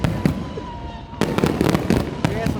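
Fireworks burst in a string of loud crackling reports, with a long whistling howl like a ghostly wail drifting through the first half, then several sharp bangs in quick succession; a voice talks faintly underneath.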